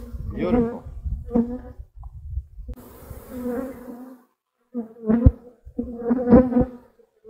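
Honeybees buzz loudly around a horizontal hive and close to the camera, bursts of droning wingbeats rising and fading, with a person talking between and over them.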